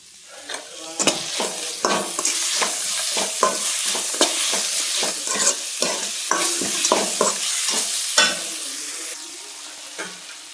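Raw mango mixture sizzles and fries in a pan while being stirred, with a steady close frying hiss broken by repeated scraping strokes of the spoon; no talking.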